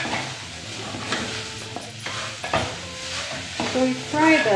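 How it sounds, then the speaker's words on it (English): Beef and onion frying in hot oil for a biryani, a steady close sizzle with stirring scrapes and a few utensil knocks against the pot. "So we fry the beef with the onion."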